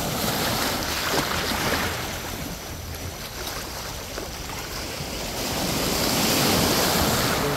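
Ocean waves wash onto Jungni Beach at night, a continuous broad rushing surf that swells louder toward the end, mixed with wind buffeting the microphone and no voices.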